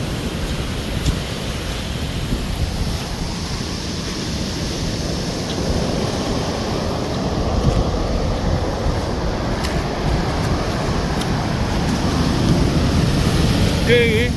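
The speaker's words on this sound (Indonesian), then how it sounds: "Ombaknya kayak gini arusnya deras sekali." Big ocean waves and a strong current on a southern sea coast roar continuously, loud broadband surf with wind buffeting the microphone and swells building toward the end.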